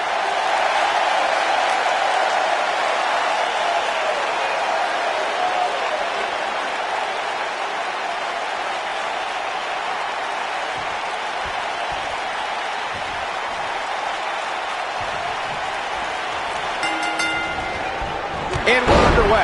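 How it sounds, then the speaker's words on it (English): Wrestling arena crowd at a WWE event chanting and cheering for Lucha Dragon, a loud, dense, steady roar filling the whole stretch, with a brief burst of sharper noise near the end. "the crowd is chanting for the Lucha Dragon"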